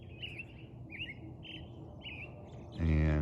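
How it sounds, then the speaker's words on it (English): Birds chirp and sing at sunrise over open ranch country in Douglas County, Colorado, with short repeated calls at moderate distance over a steady low background rumble, and a louder tonal burst near the end. "You can hear the birds"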